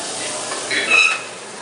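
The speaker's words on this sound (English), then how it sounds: "these prawns are actually very small, so within 3 minutes of sautéing this" Small prawns sauté in a pan with a steady close sizzle and a brief stirring swell near the middle, with no voices.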